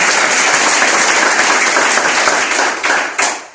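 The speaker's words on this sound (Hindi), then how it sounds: "तो एक जोरदार ताली दीजिए" Loud audience applause at a DXN presentation, thick, continuous clapping from a crowd that holds steady, then breaks up into a few scattered claps at the end.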